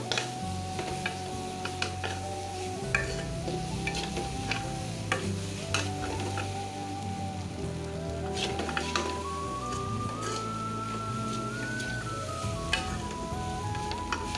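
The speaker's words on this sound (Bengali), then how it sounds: "সমানে আমি নাড়তেই আছি খুন্তি দিয়ে, নাহলে নিচে লেগে যাবে।" A spatula stirs a thick, sticky sweet in a pan on the stove, scraping steadily over a continuous sizzle, with a faint tonal hum running underneath.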